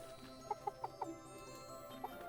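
Chickens cluck in the farming video game Staxel, a short run of four quick clucks followed by two more a moment later, fairly clear over a faint droning music bed.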